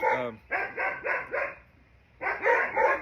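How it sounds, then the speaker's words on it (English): Dogs bark nearby in a quick run of four sharp barks, a short pause, then another burst of several barks, loud and clear with no talking. "My dogs are going to start going off now"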